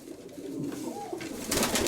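A pigeon coos softly nearby, a brief low murmuring call with faint rustling.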